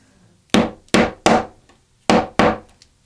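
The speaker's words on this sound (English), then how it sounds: "So I'm going to use a die cutter, but you can just use a craft knife or something else like that if you prefer" A die cutter punches a curved cut through glued strap ends for a bag-making project, heard as five sharp, loud wooden thuds in two uneven groups with quiet gaps between.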